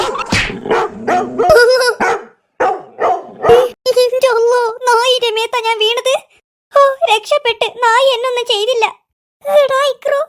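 An animated cartoon dog barks in a series of sharp, close bursts, mixed with lively voices talking over and between the barks.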